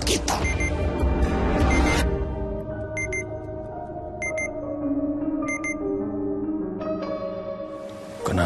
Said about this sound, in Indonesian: kalau ada alat pelacak yang ditempelin dekat kita, dia bakal bunyi kasih tanda